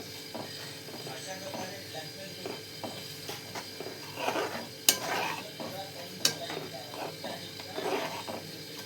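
Dal and spinach mixture being stirred in a pot, with soft scraping and clinks of a spoon against the metal, a few sharper knocks, and a faint sizzle, with a person talking over it.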